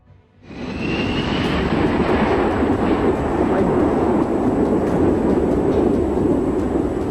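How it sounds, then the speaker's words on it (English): Airbus A320 jet engines roaring during a low descending flyby over the runway at the Habsheim Air Show, a loud, sustained broadband rumble that swells in within the first second and holds steady close by, with no talk. "The footage captures the Airbus A320 during a demonstration at the Habsheim Air Show, descending low over the runway"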